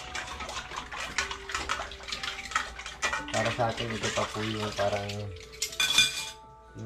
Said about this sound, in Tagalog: hindi siya nakakatamad na trabahuin yung paghuhugas ng pinggan